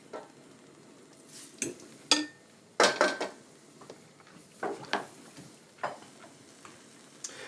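Garlic cloves go into a hot pan, giving a light frying sizzle broken by several sharp clinks and scrapes of utensils against the pan, close by with no talking.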